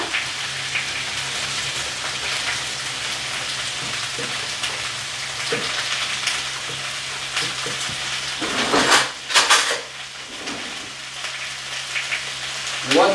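Onions and garlic fry steadily in a pan, a continuous close sizzle with brief louder crackling bursts near the end.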